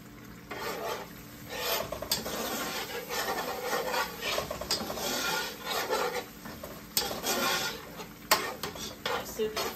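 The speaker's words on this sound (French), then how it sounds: "J'essaie de frire un peu sur le condiment, ok?" Condiment sauce is fried and stirred in a large pot over two burners for an African dish, giving continuous rasping, scraping stir strokes over a low, steady sizzle, close and moderately loud with no talking.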